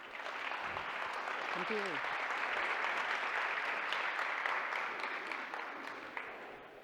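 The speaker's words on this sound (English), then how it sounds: "please give Jessica a big round of applause" An audience applauds a speaker at a platform engineering tech talk, broad steady clapping from a crowd that swells and then slowly fades, with a brief spoken thanks near the start.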